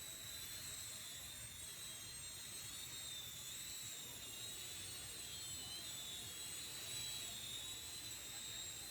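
Drones in flight give off a loud, steady high-pitched whine with a faint wavering edge over a constant rushing hum, holding unbroken and close throughout.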